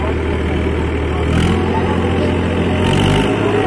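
A Powertrac Euro 50 tractor engine runs with a steady low idling rumble, close and fairly loud, rising briefly in two short surges, while someone talks over it.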